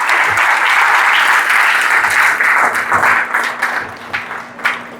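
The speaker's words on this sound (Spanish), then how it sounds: "¿Le puede dar un aplauso al Señor," A church congregation at a Sunday service claps loudly and steadily for the Lord, the applause thinning into scattered, uneven claps toward the end.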